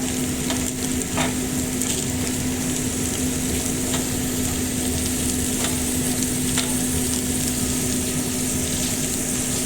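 Garlic and ginger sizzle and hiss steadily in hot oil in a pan, close and loud, with occasional stirring scrapes and a faint steady hum underneath.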